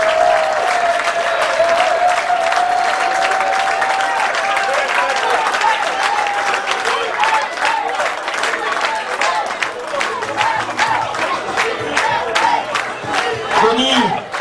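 Applause and cheering for the Union Rennes Basket 35 team after a basketball match: loud sustained crowd clapping with shouts and whistles, a rising whistle-like tone at the start, continuous throughout.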